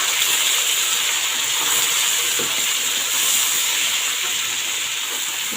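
Green fava beans sizzle in hot oil in a pot on a gas stove as they are stirred, a steady, bright hiss that runs through the whole stretch with a few soft scraping knocks from the spoon.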